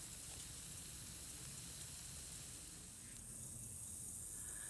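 Steak cooking on a Billy Bob grill outdoors, a faint, steady hiss of searing meat that carries on without pause for a few seconds, with no voices over it.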